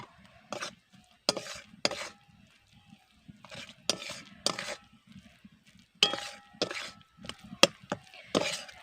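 Pea filling with chili powder and salt is stirred in a pan in a series of distinct scraping and clacking bursts, irregular and close, with quiet gaps between strokes.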